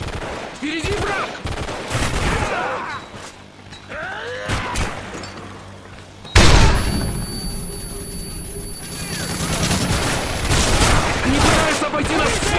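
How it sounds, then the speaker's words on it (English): Soldiers lay down suppressing fire in the video game Modern Warfare 3, Survival mode on the Village map: repeated bursts of automatic gunfire and sharp shots, close and loud, with a heavier blast midway and shouting voices mixed in. "Lay down suppressing fire!"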